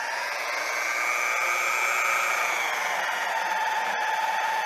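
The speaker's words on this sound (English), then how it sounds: "This is a lever that basically pulls the trigger of the bandsaw." A portable bandsaw (portaband) runs steadily in a workshop, a continuous close whine holding level throughout with a brief click near the end.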